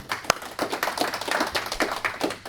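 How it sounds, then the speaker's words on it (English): Audience clapping at a talk on agile risk management, a close, dense patter of hands sustained through the brief moment without any voices over it. "And another round of applause for flying out just for this."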